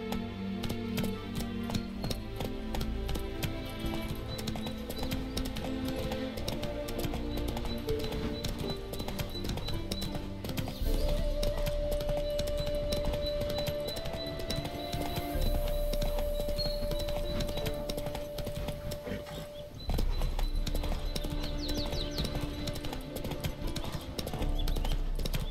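The horse Roach gallops in Witcher 3, a rapid, steady clip-clop of hooves on the ground under game music and ambience, continuous and fairly close.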